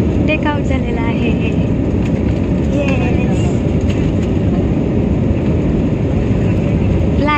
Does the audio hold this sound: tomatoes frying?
no